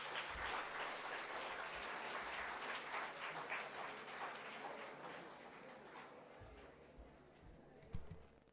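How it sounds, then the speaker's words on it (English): Audience applause at a community cultural event, ahead of a children's yoga demonstration: dense, steady clapping from a crowd, fairly loud at first and gradually thinning toward the end, with a few louder claps near the finish. "Give them a big round of applause."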